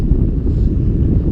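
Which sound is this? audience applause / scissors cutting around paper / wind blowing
wind blowing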